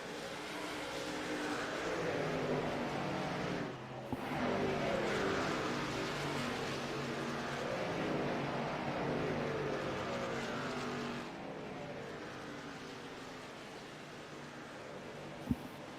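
NASCAR race trucks roar past on a superspeedway as a continuous loud engine drone. It dips briefly twice as the pack goes by and fades slightly near the end.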